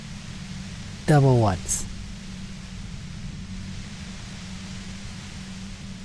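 Steady hiss of loud white noise from the compressor in Disco Elysium fills the whole stretch, with a voice speaking briefly over it near the start.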